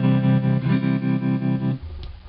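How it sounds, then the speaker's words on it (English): A guitar amp's vibrato effect is switched on, so a sustained chord wobbles in regular, pulsing waves for about two seconds and then cuts off, leaving a low hum. "Turn the vibrato on."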